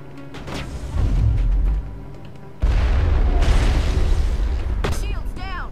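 Mass Effect combat plays out with deep booms and bursts of gunfire, loud and sustained, then a sharp pop and whooshing sweeps at the end, while a player talks over the action.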